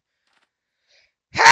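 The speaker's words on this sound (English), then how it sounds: "I have to sneeze." A single sharp sneeze bursts out after a long stretch of near silence, loud and close.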